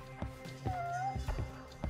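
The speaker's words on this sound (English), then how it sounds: "Just waiting for it to meow now." A cat in the video game Judgment gives one soft meow, faint and slightly distant, amid a quiet background of muffled thumps.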